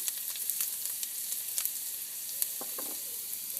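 Fresh ginger frying in a pan for a Durban curry, a steady close hiss of sizzling oil with scattered crackles and pops and a few soft stirring scrapes, no voices.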